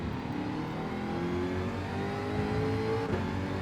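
Race car engine droning steadily in Gran Turismo 7, a sustained mid-level whine with a rising pitch as it holds speed, alone without talk.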